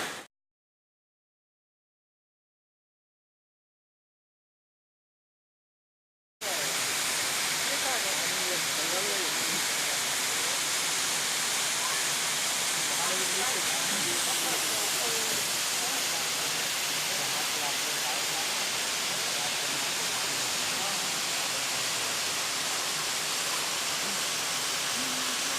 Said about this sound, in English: So here you have a most beautiful waterfall